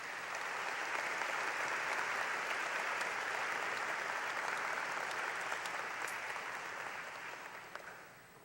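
Sustained applause from a large seated audience at a medical college honors convocation, a dense even wash of clapping that holds steady for several seconds before tapering slightly, heard from some distance in a big hall.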